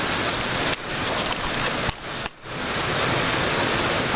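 Steady, heavy rain falls continuously outdoors, giving a dense, even hiss with only momentary dips in level.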